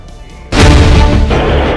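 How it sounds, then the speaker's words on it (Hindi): An AK-47 rifle fires inside a jewelry store during an armed robbery: after a half-second lull, a very loud, distorted blast erupts and stays harsh and booming to the end, close and overwhelming. "एक लुटेरा AK-47 राइफल से दनादन गोलियां बरसाते हुए ज्वेलरी स्टोर में घुसा"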